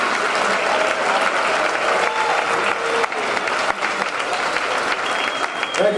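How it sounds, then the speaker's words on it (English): A crowd at a college basketball championship game claps for the all-conference men's basketball team, loud continuous applause with a few sharper claps near the end. "Ladies and gentlemen, one more round of applause for the 22-23 All-SCAC men's basketball"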